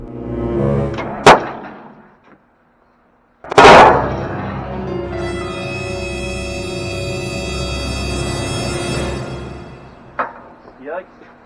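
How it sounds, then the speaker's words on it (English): A battery blows up as a Detroit Diesel engine is cranked with ether on a cold start: sharp loud bangs, then a pause, then another big crack leading into a sustained roar of the engine running. "My battery exploded, blew a breaker"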